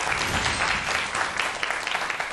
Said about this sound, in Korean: 폴수학학교의 박완근 교장 선생님을 큰 박수로 맞이해 주시기 바랍니다.